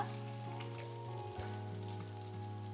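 Vegetables and boiled vermicelli fry with cooked egg in a hot pan, giving a steady, close sizzle that hisses evenly throughout with no voices.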